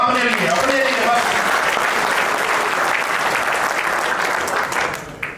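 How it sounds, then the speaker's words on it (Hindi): An audience at a Hindi-language seminar breaks into loud, sustained applause that fills the room for several seconds, with a few voices briefly audible at the start before the clapping fades near the end. "जोरदार तालियां अपने लिए, अपने लिए बस।"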